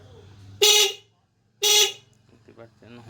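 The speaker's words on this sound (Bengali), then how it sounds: "দেখতে পাচ্ছেন হর্ন বাজছে।" An e-rickshaw horn gives two loud, close honks about a second apart, each lasting roughly half a second, followed by faint quieter sounds.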